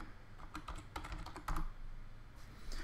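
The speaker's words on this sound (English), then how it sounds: "so type the right password" A password is typed on a computer keyboard, with soft, quick key taps in an irregular run and a few brief pauses, close by and fairly quiet.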